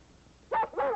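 A dog gives two sharp, close barks in quick succession against a quiet background, set in a 1950s Western ranch scene.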